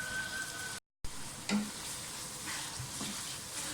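Minced keema frying in a pan gives a steady close sizzle with occasional stirring scrapes and soft knocks, broken by a brief dropout near the start.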